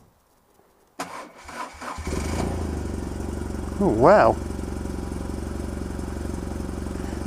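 A motorcycle with a double overhead camshaft engine, unused for at least seven months, cranks briefly then fires up and settles into a steady close idle, with a short rev midway and a brief exclamation over it.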